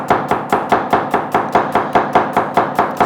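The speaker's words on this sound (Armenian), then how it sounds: "Սոխը պարտադիր շատ մանր պետք է կտրատվի" A knife finely chops a whole onion on a board, a fast, even rhythm of about a dozen crisp close thuds with no talk over it.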